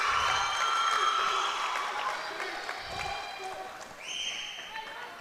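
Fans of a high school varsity volleyball match at the Trojan Trench cheer and applaud in a gym, a loud crowd roar with whistles that fades somewhat, while a commentator talks over it.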